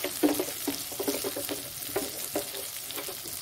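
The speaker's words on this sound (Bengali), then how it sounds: "উচ্ছেটা বেশি ভাজবো না, বেশি করে ভাজলে তেতো ভাবটা চলে আসবে" Bitter gourd frying in a pan, giving a steady close sizzle with irregular stirring scrapes and clicks scattered throughout, no talking.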